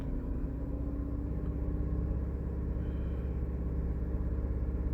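A 2017 Dodge Durango's 3.6 engine with an intermittent cylinder 2 misfire idles up with a low, steady rumble, its revs rising with slight hesitation, heard close and alone.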